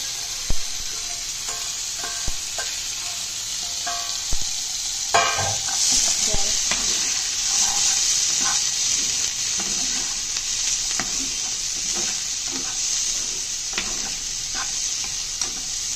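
Boiled green peas and garlic sizzle steadily in a hot pan for a peas curry, with repeated scraping strokes of a spoon stirring them throughout and a few sharp clicks early on.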